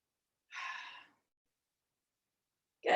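Deep breathing during a yoga flow session: one soft, airy breath of about half a second, followed near the end by the start of another louder breath, with silence between and no talk.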